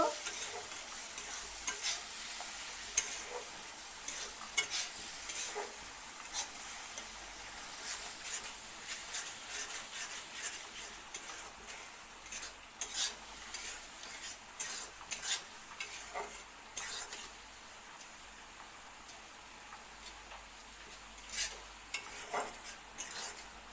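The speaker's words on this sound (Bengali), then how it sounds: "এবার মশলাটাকে ভালো করে কষিয়ে নিতে হইব" Dried chilli spice paste is stir-fried in a pan, with a soft continuous sizzle and frequent scraping and tapping of a spatula against the metal, irregular and close.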